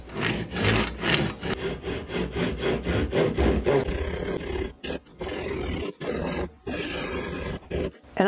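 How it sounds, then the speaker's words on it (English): A hand saw cuts through a wooden paintbrush handle, guided along a clamp edge: steady, close rasping back-and-forth strokes, dense at first, then slower and broken by brief pauses. "then you can just put your saw right there and just guide yourself along the"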